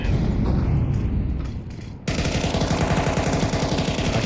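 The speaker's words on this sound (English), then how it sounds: "Deploying flashbang" A flashbang grenade going off in a video game, a harsh loud burst cutting in abruptly midway and leaving a dense ringing, crackling wash that fills the rest of the moment.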